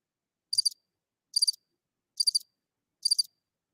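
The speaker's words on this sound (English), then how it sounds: "Crickets." Cricket chirping sound effect: four evenly spaced bursts of high, rapid trills, each about a fifth of a second long, separated by clean silence.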